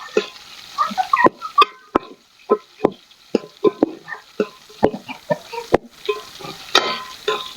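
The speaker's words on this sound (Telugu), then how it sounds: "ఇట్లా మంచిగా ఎర్రగా అయ్యేదాకా ఇట్లా గోలియాలి." Onion and four or five green chillies fry in a pan, with repeated scraping stirs and clinks of the spoon over a steady sizzle, close up and without talk.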